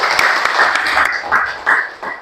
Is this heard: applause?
yes